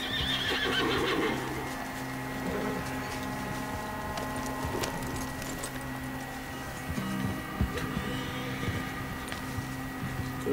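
A horse whinnies loudly at the start in Red Dead Redemption 2 Online, followed by clip-clop hoofbeats and scattered game sounds under a steady background.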